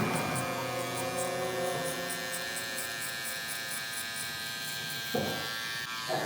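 A Babyliss Gold SnapFX hair clipper buzzes steadily while cutting hair with its lever open, giving a continuous close electric hum with a slight change in tone near the end and no talking.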